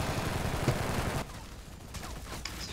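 Continuous AK-47 automatic fire in Battlefield Heroes, a dense steady stream that cuts off abruptly, then a few scattered distant shots in quieter game ambience.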